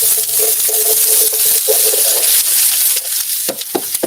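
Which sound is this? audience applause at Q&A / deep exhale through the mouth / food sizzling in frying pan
food sizzling in frying pan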